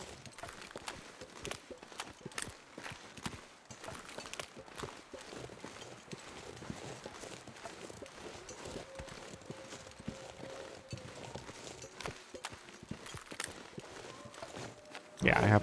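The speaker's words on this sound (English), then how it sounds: "the footsteps lately, I feel like they always sound like I have my crampons on, even when I don't." Footsteps crunch through snow in The Long Dark, sounding as if crampons are worn: a continuous run of quiet, rhythmic crunching steps with faint game ambience, ending on a brief louder burst.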